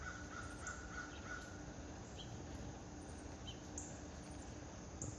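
Blue jays give a few faint, distant calls scattered over a quiet outdoor background among trees where squirrels are about, with a thin high-pitched chirping running throughout.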